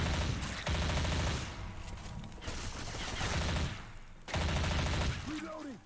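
Rapid gunfire rattles through a zombie shooter game, dense bursts of automatic fire with brief pauses, loud and close, mixed with game noise and a few synthetic voice callouts.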